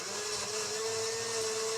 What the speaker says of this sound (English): Put this little fella in the blender.